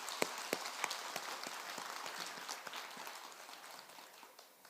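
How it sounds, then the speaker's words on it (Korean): Audience applause at a dharma talk at Bongeunsa temple, a soft, distant patter of many hands with a few sharper claps early on, fading gradually toward the end. "우리 이번에 동계올림픽에 나가서 열심히 선전해 주신 선수들과 임원들께 우리 큰 박수 한번 부탁합니다"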